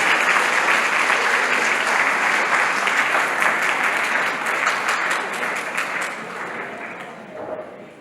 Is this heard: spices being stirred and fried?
no